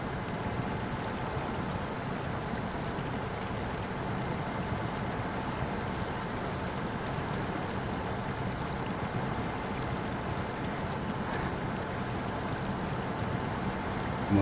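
Truck in the Snowrunner video game ploughing through water, a steady broadband wash and churn with low rumble running continuously and evenly throughout.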